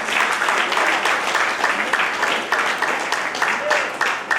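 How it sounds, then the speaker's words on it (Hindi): An audience claps to welcome a speaker at a gathering, a continuous mass of applause with faint talk mixed in. "एक बार जोरदार तालियों से स्वागत करते हैं।"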